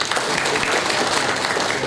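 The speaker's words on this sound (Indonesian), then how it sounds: "Tepuk tangan untuk Ine." An audience at a political speech gives dense, continuous applause throughout, loud and close with no single claps standing out.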